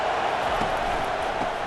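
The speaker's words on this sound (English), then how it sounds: "Decibels rising as the crowd gets behind this defense on third down" Steady crowd roar from a stadium crowd in EA Sports College Football 25, TCU versus Utah, backing the defense on third down; a dense, continuous wash of noise at constant loudness.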